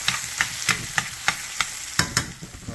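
Steak and onions browning in a hot pan: a loud, continuous sizzle broken by regular scraping stirs roughly every third of a second, close up with no talking.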